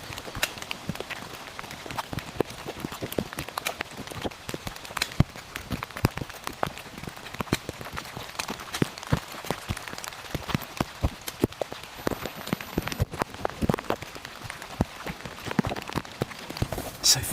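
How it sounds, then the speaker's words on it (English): Heavy rain hammers a tent with a hot stove in a primeval forest during a sudden downpour, a dense, steady patter of drops drumming continuously on the fabric without a break. "some of the worst rain I've seen in a while"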